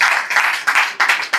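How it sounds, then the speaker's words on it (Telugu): A church congregation claps hands loudly in repeated bursts of applause, a dense, close wash of many hands striking with no voices standing out. "గట్టిగా చప్పట్లు కొట్టి దేవుని మహిమపరచండి"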